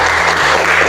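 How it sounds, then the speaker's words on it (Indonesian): Brief, dense clapping fills a classroom as students applaud together, a short burst of about a second, loud and close. "Ya, tepuk tangan semua."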